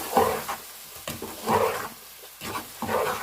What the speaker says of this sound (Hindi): अच्छे से तमाम स्पाइसेस को मिक्स कर लेंगे।